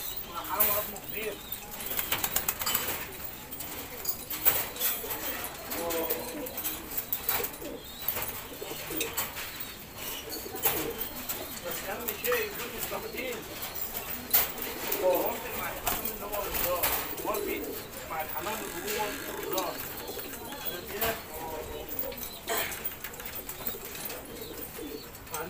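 Pigeons coo and flap their wings inside a pigeon loft. The murmuring and wingbeats run steadily throughout at moderate distance, and voices can be heard faintly in the background.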